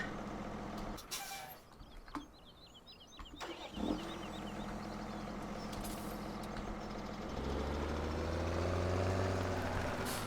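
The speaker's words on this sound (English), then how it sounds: "This tractor's a little sluggish." Tractor engine in Farming Simulator 17, a continuous low rumble that swells and deepens toward the end as it works, with a few brief clunks and hisses early on.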